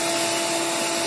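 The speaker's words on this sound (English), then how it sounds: "the vacuum cleaner also comes in handy as you're working" A steady, broadband vacuum cleaner whir with a constant hum, running close by while styrofoam is shaped with a saw, unbroken for the whole stretch.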